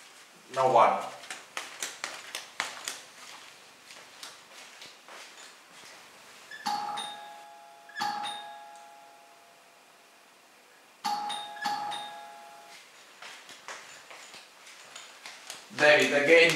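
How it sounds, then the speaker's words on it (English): Someone talks indoors while a doorbell sounds three times. Each time it gives a clear two-tone chime that rings on for a moment and then fades, and the talking continues between the rings. "David, they keep ringing at the door."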